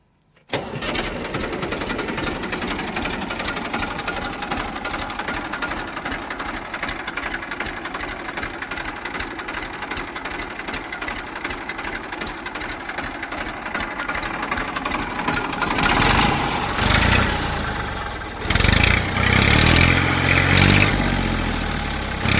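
A Massey Ferguson tractor engine cranks and fires, then settles into a steady rattling diesel run, close and loud, with the revs rising in two brief surges near the end and no talk.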